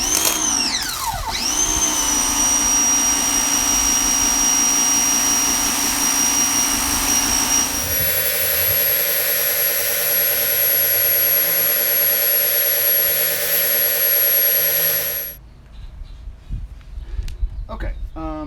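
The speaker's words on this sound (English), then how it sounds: "now I went ahead and I put on the 15-degree nozzle, which is a little more of a power washer" A Ryobi 1900 PSI electric pressure washer fitted with a 15-degree nozzle runs close by with a loud, steady whine and a hissing spray, shifts tone partway through, then cuts off, leaving quiet handling sounds.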